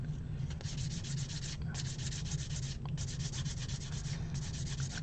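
Fine 400-grit sandpaper rubs back and forth on a small plastic Gundam model part, a close, dry scratching in quick, rhythmic strokes with short pauses between passes.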